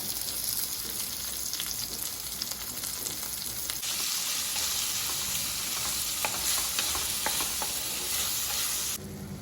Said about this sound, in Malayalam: നമുക്ക് ചെറുതായിട്ട് അരിഞ്ഞ തക്കാളി ഇട്ട് കൊടുക്കാം